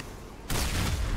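Explosion in the vehicle-combat game Crossout, a sudden loud broadband blast about midway through that stays as a dense, roaring rumble to the end, following a quieter stretch of game noise.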